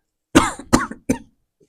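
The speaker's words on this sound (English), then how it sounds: "Cough?" Three harsh coughs in quick succession, close and fairly loud, each a short broadband burst with a brief pause between.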